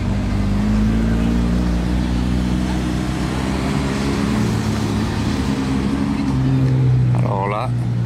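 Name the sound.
Mercedes-AMG GT R car engine driving by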